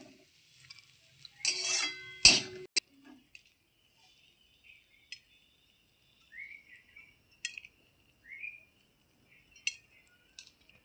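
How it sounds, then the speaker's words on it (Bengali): Fried Gobindobhog rice is scraped out of a pan with a spoon into a bowl: a brief cluster of metallic scraping and clinking, then scattered light taps and a faint chirping bird in a quiet room. "আমি এটা একটা বাটির মধ্যে তুলে নিচ্ছি।"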